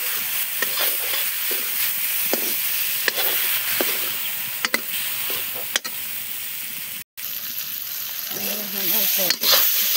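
Fish frying in a hot pan for ash gourd and fish curry, a steady close sizzle with intermittent stirring scrapes and clatters, and a brief hiss near the end.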